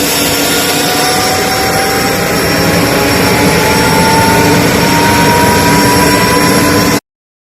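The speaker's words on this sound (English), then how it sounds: "these are the videos of Simone on the helicopter" Loud, continuous engine drone of a helicopter in flight, with steady whining tones, heard through a played recording before cutting off abruptly near the end.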